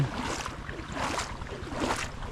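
A boat engine runs with a low, steady throb under a rushing, wind-buffeted wash of noise, moderately distant and continuous.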